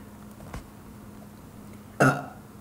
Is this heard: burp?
yes